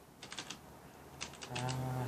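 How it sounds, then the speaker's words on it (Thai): A computer keyboard is tapped in quick bursts during a Cookie Run game, two clusters of sharp clicks separated by a pause, with a steady tonal hum from the game coming in toward the end. "ถ้าได้ยินเสียงคีย์บอร์ดก็ลองฟังดูครับ"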